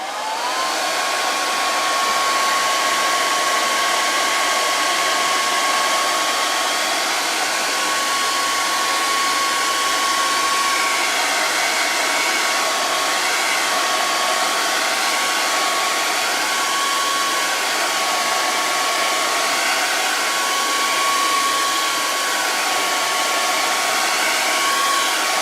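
A hair dryer blowing steadily on a pastel painting of a snow melt, a loud continuous whooshing whine held unbroken throughout, close to the microphone with no talking.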